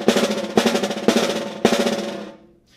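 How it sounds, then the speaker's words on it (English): Slowed-down snare drum buzz strokes: four separate strokes, each a rapid string of close bounces that thins out before the next begins, ending in a short quiet tail. "If we slow it down, it would sound something like this."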